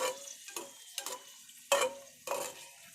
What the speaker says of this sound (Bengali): আর এখানে দুটো লঙ্কা ভেজে নিই